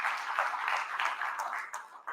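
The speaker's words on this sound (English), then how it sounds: "Let's give John a big round of applause." An audience at a live fishing awards show applauds, with a soft, distant patter of clapping that holds steady for a couple of seconds.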